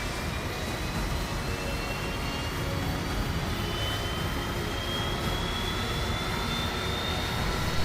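A jet engine running in Microsoft Flight Simulator 2024 gives a steady, even roar with a thin high whine that slowly rises in pitch. It holds constant throughout with no voices.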